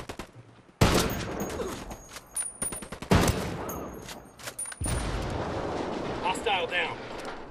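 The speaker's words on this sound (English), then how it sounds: "we got a bunch of green guys shooting" Dense bursts of automatic rifle fire and heavy gunshots in the Ghost Recon Wildlands co-op shooter, loud and close with sharp volleys at intervals, a busy battlefield din underneath.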